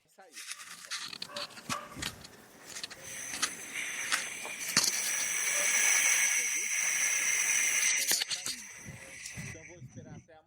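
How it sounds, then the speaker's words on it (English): Biogas escapes with a steady hiss from a homemade plastic digester with a leaking rubber seal, a thin airy stream that swells and holds, with faint clicks and quiet voices nearby. "listen to the gas being produced"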